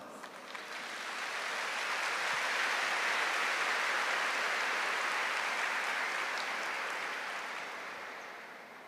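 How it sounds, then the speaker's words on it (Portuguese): A Catholic congregation at a camp gathering applauding together, a dense, steady wash of clapping that swells over several seconds, holds, then slowly fades. "Aplauda essa palavra."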